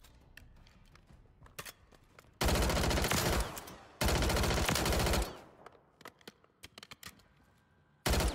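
Automatic gunfire from a weapon in Call of Duty MW3 ranked multiplayer: loud sustained bursts, one around 2.4–3.9 s, another at 4–5.3 s and a third starting near 8.1 s, with quieter scattered shots and footsteps between.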